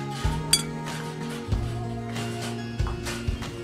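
Larb (laab) seasoning powder being mixed in a bowl for Hmong larb, with a utensil knocking against the bowl in a few sharp, ringing clinks spread over a few seconds.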